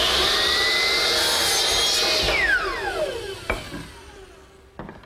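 A power saw cuts a wooden TV tray table leg to length against a preset stop, with a loud close whine that winds down after the cut, followed by a couple of sharp knocks.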